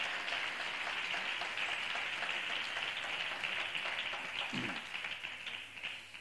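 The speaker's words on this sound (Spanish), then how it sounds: "den un aplauso al Señor" Steady congregation applause in a church, a dense, even patter of many hands holding at moderate level throughout and thinning slightly toward the end.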